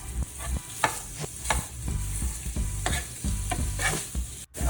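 Ground meat browning in a soup pot, stirred with repeated scraping strokes over a steady low sizzle, close and fairly loud, no voices.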